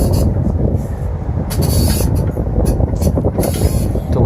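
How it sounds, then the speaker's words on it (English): A fifth wheel trailer is jacked up by its axles in a loud workshop, with heavy rumbling, clanks and short metallic squeals running continuously over the few seconds. "So they're now jacking up the actual axles."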